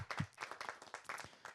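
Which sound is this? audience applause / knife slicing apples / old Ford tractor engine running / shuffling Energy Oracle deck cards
audience applause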